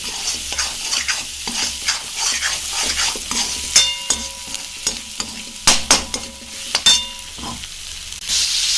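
Masala with turmeric roasts in a pan while a spoon stirs and scrapes it in repeated sharp strokes over a soft, steady sizzle, close up and with no talk.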